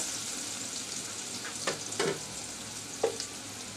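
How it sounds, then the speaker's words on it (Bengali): Onions softening in hot oil give a steady close sizzle, broken by a few stirring scrapes and knocks, with no voices. "পেঁয়াজটা নরম বাজা হয়ে এসেছে"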